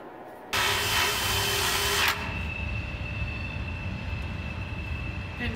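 A rotary tool fitted with a pyramid bit enlarges holes in metal while fitting a swivel seat in a Ford Transit van, giving a loud, steady high-pitched whine and grinding that drops a little in level partway through.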